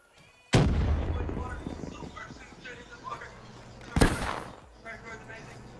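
Grenade blasts in an online first-person shooter match: a sharp, loud explosion with a long rumbling tail, then a second booming blast a few seconds later, with voices faintly underneath.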